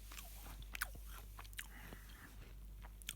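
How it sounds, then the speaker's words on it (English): Crunchy biscuits are bitten and chewed up close in a quiet room, a series of crisp crackling crunches in an irregular rhythm, with no voices. "These biscuits are very crunchy."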